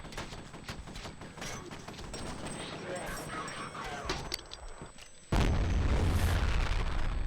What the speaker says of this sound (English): Ah, I threw that grenade too close.